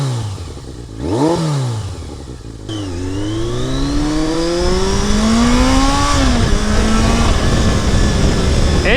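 A Yamaha XJ650 Turbo motorcycle, smoking, revs up and drops back, then pulls hard through rising gears with a climbing engine whine, loud and close with wind rush.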